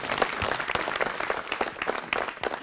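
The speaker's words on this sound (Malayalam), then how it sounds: "ആ, അങ്ങനെയാണ് കൈയടിക്കണ്ടേ." A studio audience at a Malayalam comedy show applauds after a comedy skit, with dense clapping in close overlapping bursts that stays loud and steady the whole time.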